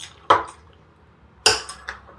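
A spoon scrapes and knocks against a bowl while chicken is mixed with masala and salt, two distinct close metallic clinks separated by a quiet pause.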